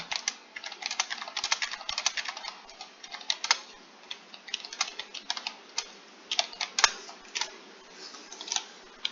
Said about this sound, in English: we just type ztats and we wait a bit.